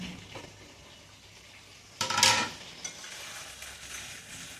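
Okra (bendakaya) stir-frying in a pan at home, a soft steady sizzle with a louder burst of hissing and stirring scrapes midway, then settling back to a gentle fry.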